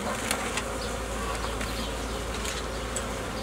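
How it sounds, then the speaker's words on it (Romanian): Honeybees at a hive during spring frame work, a dense, steady buzzing swarm close by with individual bees droning past, and no voices. "Să se retragă albinițele. De pe rame."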